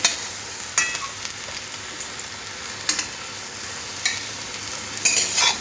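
Raw banana chops deep frying in hot oil, a steady dense sizzle with a few brief louder bursts of scraping or splashing, close by and without speech.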